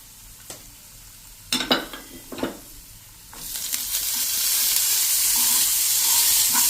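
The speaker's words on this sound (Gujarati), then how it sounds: "આ રીતે એને આપણે મિક્સ કરી લેશું" Bottle gourd peel stirred into hot oil with asafoetida in a pan, a few scraping stirs followed by a rising, steady loud sizzle and hiss close by, no talk.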